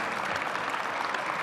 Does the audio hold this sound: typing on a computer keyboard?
no